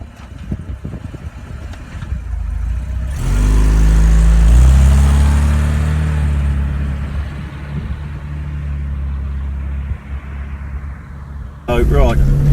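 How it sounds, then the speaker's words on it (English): A 1987 Vauxhall Astra 1.3 automatic accelerates hard, its engine note rising and droning loudly from inside the car, easing off, then surging again near the end, with someone talking over it. "30 mile an hour under hard acceleration, we're in top gear"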